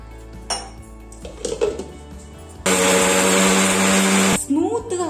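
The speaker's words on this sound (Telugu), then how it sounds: "ఇప్పుడు ఈ మిక్సర్ నంతా కొంచెం వాటర్ వేసి మనం గ్రైండ్ చేసుకుందామండి" A mixer grinder whirs loudly for about two seconds, grinding spices and lentils with water into a kurma paste, after some clattering of utensils and talking.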